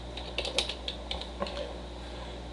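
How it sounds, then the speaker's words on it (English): Keystrokes on a computer keyboard as a name is typed into an online exam form: quiet, irregular clicks in short bursts with no talking. "I'm going to type in John Doe."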